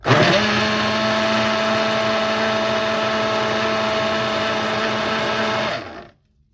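A small blender whirs steadily while blending homemade avocado dressing, a loud, even motor drone with a buzzing rattle that holds for about six seconds before cutting off abruptly into silence.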